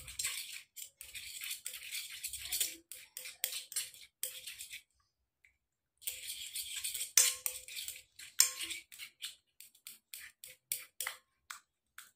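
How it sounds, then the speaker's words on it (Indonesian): Spoon stirring mashed banana with rose water in a bowl, giving close, quick clinks and scrapes in short bursts, with a brief pause partway through and no talking. "Tambahkan sini, sambil diaduk-aduk."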